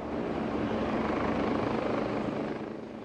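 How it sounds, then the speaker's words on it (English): A military helicopter's rotor thumps in a steady fast beat under a broad engine roar as it flies over at night, loud and close, easing off slightly at the end. "the nighttime helicopter traffic is annoying and scaring her young children."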